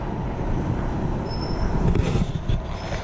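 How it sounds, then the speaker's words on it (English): Steady rumble of a train and rail cars at the Hollywood/Vine metro station in Hollywood, a continuous loud low roar with a brief high squeal, no talk. "Now we are in Hollywood station. We'll wait for the train."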